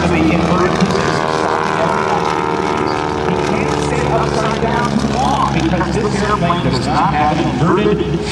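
A stock Stearman biplane flies aerobatics at an air show and rolls inverted. Its radial engine and propeller drone loudly and steadily, rising and falling in pitch, while a voice narrates over it.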